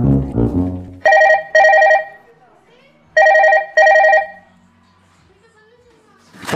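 A telephone rings while a call is being placed: two loud pairs of double rings, close and clear, separated by a short gap, with a brief voice heard just before the first ring.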